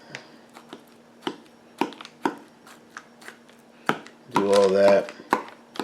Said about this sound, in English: I'm gonna stab some slits in here, so that my seasoning can stay.